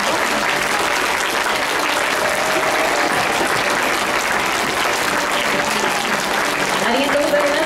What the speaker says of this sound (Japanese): レモンポップの関係者の皆様に今一度大きな拍手をお送りくださいませ